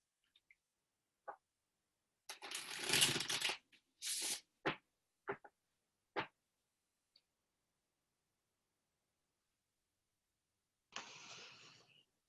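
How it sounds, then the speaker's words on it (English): Tarot cards being shuffled in several short bursts, crisp riffling and snapping separated by pauses, close and fairly quiet with no talking. "So let's shuffle and see what appears."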